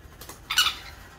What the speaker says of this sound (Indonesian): sekian tips kasih makan burung San Connor